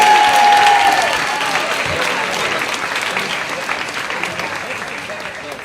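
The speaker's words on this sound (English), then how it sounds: "Big round of applause for Kelly." Applause from a live storytelling audience, loud and dense from the start and thinning gradually over several seconds, with a brief tone and a voice audible early on.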